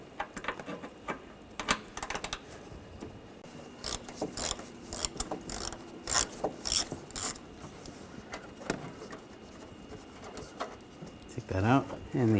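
A ratchet with a 10mm socket removes screws on a 2013-2019 Ford Escape 2.0L, giving bursts of quick metallic clicking close by, interspersed with handling clatter while someone talks.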